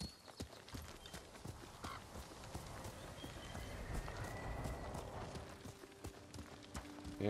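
A horse's hooves clip-clop in a steady, quick rhythm in Ghost of Tsushima, soft and fairly distant under a low ambient game backdrop with no talking.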